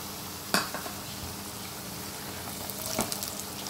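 Prawns fry in a pan with a low, steady sizzle, broken by a couple of sharp clinks and stirring scrapes nearby.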